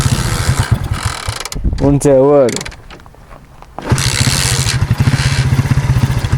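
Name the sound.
boat motor running during repair on Loukkos river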